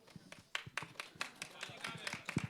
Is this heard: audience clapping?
yes